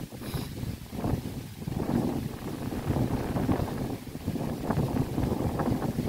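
Wind gusts blowing steadily across an outdoor waterside spot, roaring into the microphone as broadband buffeting throughout, with no talk over it.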